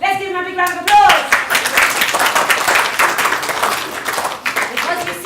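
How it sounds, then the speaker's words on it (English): An audience at a youth theatre performance of Stormsong in Rugby Library breaks into loud, sustained clapping and applause that fills the room, following a brief held tone. "Let's give him a big round of applause"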